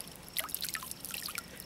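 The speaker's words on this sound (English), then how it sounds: "Dripping water, squeeze it," Water dripping and trickling from a squeezed ultralight Coleman travel towel outdoors, a faint, brief run of small splashes and drips.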